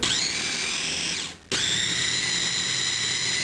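A food processor chops sprouted bread dough, whirring loudly and steadily, briefly dipping to near silence for a moment before resuming at full speed.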